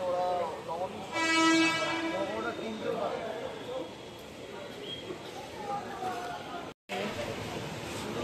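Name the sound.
Gede local train arriving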